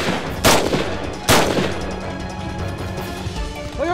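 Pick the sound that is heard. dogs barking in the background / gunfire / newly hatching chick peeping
gunfire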